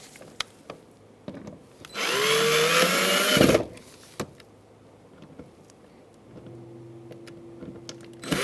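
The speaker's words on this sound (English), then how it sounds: "Just gonna get them started and I'll use my drill." A power drill drives screws into the door of a 2004-2009 Mazda 3, giving one close, loud whirring burst of about a second and a half amid quiet handling clicks, with no talking.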